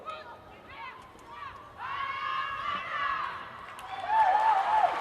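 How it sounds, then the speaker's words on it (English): Spirited stadium crowd at a women's football match between Martinique and Honduras, a swelling mass of distant chanting, whistling and cheering that grows louder toward the end, with a commentator talking over it. "Sounds like a very spirited crowd on hand."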